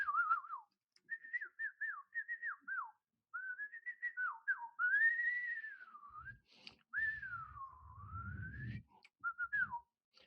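A person whistles alone, imitating a bird indoors, in a string of short chirping phrases and longer sliding warbles with small gaps between them, fairly close and clear.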